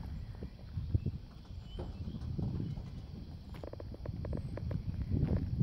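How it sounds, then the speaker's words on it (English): Horse hooves clip-clop at a slow walking pace on a ranch near the Pacific coast in Bodega Bay, a series of soft knocks close by over steady outdoor background noise, with no talking. "This place rents out horses for rides."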